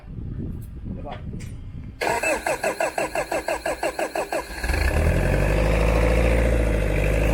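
A 10-inch racing water pump engine cranks about a dozen times in quick rhythmic bursts, then catches and settles into a loud, steady running roar, with people talking nearby before the start.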